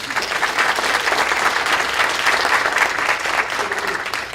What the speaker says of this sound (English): Again, we want to give them a round of applause.